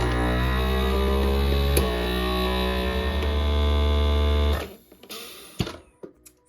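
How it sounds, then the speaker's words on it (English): A vacuum sealer pumps the air out of a glass jar, humming loudly and steadily for several seconds before cutting off, followed by a few light knocks and handling clunks. "This sealer will shut off when the air is removed."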